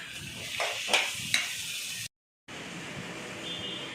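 Ingredients for country chicken gravy sautéing in a pan, with soft sizzling and a few stirring scrapes, faint and close, broken by a brief silent gap.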